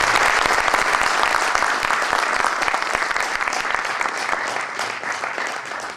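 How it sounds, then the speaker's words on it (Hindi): Loud, sustained applause from a crowd at a 1998-batch college reunion as teachers and professors are honoured, a thick wash of many clapping hands that holds steady and tapers slightly toward the end. "आप सब लोगों से अनुरोध करूंगा कि जोरदार तालियों के साथ में हमारे साथ।"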